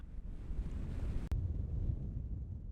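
Steady gusty wind buffets the microphone at a desert campsite in the Tankwa Karoo, a continuous low rumble with a brief dropout partway through, no voices.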